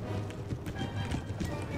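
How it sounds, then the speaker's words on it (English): Cavalry horses trotting in the strategy game Empire: Total War, a steady clip-clop of many hooves at moderate level, with occasional faint whinnies mixed into the continuous battlefield ambience. "Let's just begin trotting my cavalry around."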